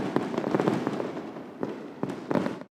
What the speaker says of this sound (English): The man decided to continue enjoying the fireworks